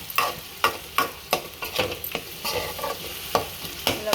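Onions and brinjal softening in a frying pan give a soft sizzle under sharp, regular scraping strokes of a spatula, about two per second, close and clear.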